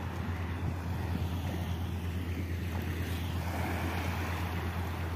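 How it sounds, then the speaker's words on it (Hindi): Small waves lap steadily along the water's edge beside a road in Mumbai while a cool wind rushes past, a constant low wash with wind rumble on the microphone and no talking. "यहाँ पे बहुत ही ठंडी ठंडी हवा चल रही है, पानी की छोटे छोटे लहरें उबाल मार रही है।"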